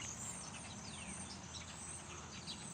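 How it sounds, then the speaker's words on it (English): Faint bird chirps scattered over a steady outdoor hiss, with soft insect-like buzzing in the background; no voices. "I don't know if you could hear the birds"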